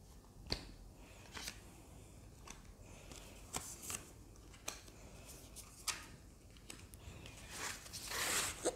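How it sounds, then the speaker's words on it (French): Four playing cards drawn from a deck during a tarot-style reading, a series of soft, sharp card snaps and slides spaced a second or so apart, quiet and close with no talk. "on va prendre encore 4 cartes."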